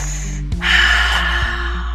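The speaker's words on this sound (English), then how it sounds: "Final breaths. Belly, chest, exhale." A deep audible breath, a sharp intake followed by a long, airy exhale during a guided breathwork session, close and loud over a low steady hum.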